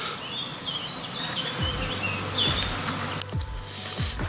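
Black honey bees buzz around an open hive during queen marking and colony checks, a close, wavering hum mixed with bird chirps and a few soft thumps.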